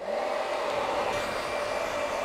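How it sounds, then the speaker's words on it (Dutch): A handheld hair dryer on its cold setting blows over pork belly skin to dry it in a home kitchen. Its motor gives a loud, even whir with an airy rush that holds steady throughout, and nobody talks. "Zorg er wel voor dat als je een föhn gebruikt, dat je hem zet op koude stand."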